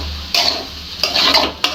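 Stirring veg fried rice seasoned with soy sauce in a pan, heard as three distinct scraping strokes of a utensil against the pan, close and fairly loud, with no talking.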